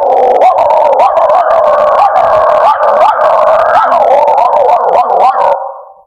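A mimicry artist voices two dogs at once, one barking normally and the other snarling and howling as they fight, a loud, continuous stream of yelps, howls and barks that fades out at the end.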